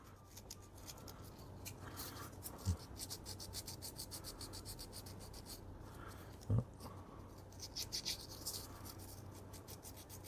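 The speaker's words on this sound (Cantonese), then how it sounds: "我哋而家攞啲砂紙啲嘢灑磨下佢啊" A gel blaster part is sanded by hand with coarse sandpaper in rapid, rhythmic back-and-forth rasping strokes, close and continuous, with a couple of heavier knocks between passes.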